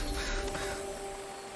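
A crow caws in the hunting game Blacktail, a short, harsh call heard clearly over a steady background hum with no speech.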